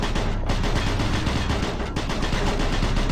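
Rapid, dense plasma gun fire in Doom 3 blasts continuously in a loud, crackling barrage, with no pauses and no voices.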